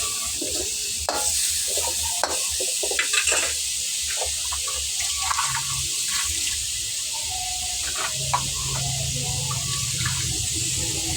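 Pork and chicken afritada stew being stirred in a pan, a steady wet scraping and sloshing with faint sizzle running throughout, close and continuous with scattered clinks of the utensil against the pan.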